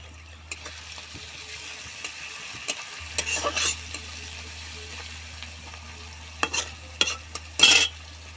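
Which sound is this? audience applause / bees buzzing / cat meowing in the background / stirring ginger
stirring ginger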